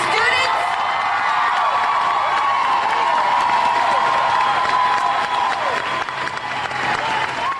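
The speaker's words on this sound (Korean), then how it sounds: "박수가 그치질 않아서" A large crowd at a student gathering breaks into loud, sustained applause and cheering, a dense unbroken roar of clapping and shouts with voices rising above it for the whole stretch.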